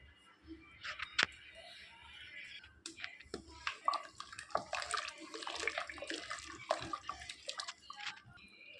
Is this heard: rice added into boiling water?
yes